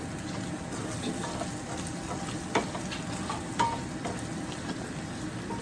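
Paneer fry is stirred in a hot pan, giving a continuous close sizzle with scraping and a couple of sharp utensil knocks against the pan.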